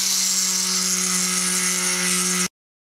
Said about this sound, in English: I'm just going to use my Dremel type tool. It's actually a Ryobi brand,